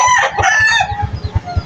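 Chickens cluck and a rooster crows close by, with harmonic crowing calls in the first second followed by a steady run of short, rhythmic clucks.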